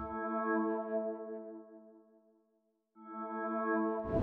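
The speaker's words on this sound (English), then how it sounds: "That sound is from Analog Lab by HZE" Sustained synth pad pattern from the Affection preset in Analog Lab's Eclipse Bank, playing a steady harmonic chord that fades away, drops out for a moment and then swells back in, soft and alone.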